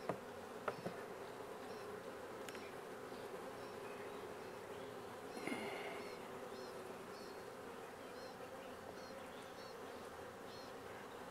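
A swarm of honey bees drones in a dense, steady buzz, faint and continuous, with a brief louder pass of a nearby bee midway.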